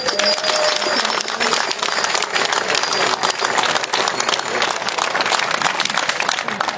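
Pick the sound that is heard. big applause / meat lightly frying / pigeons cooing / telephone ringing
big applause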